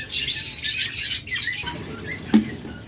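Caged lovebirds and budgerigars chirp and twitter close by in a rapid, busy chatter, with a brief flutter of wings and one sharp click near the end.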